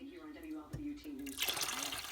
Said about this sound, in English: So here I'm adding water.